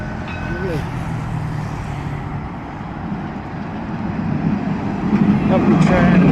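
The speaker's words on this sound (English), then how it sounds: "Here comes another tram." A tram crosses the Hassan II Bridge in Morocco, its low rumble growing louder toward the end over steady traffic and outdoor hum, while someone talks nearby.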